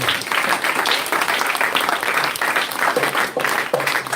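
A church congregation bursts into sustained, loud applause, dense clapping filling the space evenly with a few voices mixed faintly underneath.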